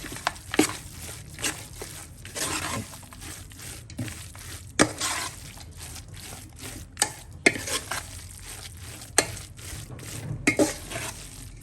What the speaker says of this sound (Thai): คลุกเคล้าให้เข้ากันนะครับ